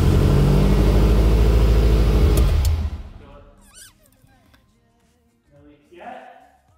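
An engine with no oil in its lifters runs loud and rough for a few seconds, then cuts off, leaving quiet background and brief speech.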